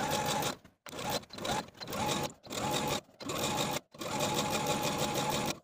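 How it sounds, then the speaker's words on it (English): A sewing machine runs in close, steady bursts of rapid stitching, stopping briefly between runs several times. "take it to my sewing machine and sew close to that raw edge"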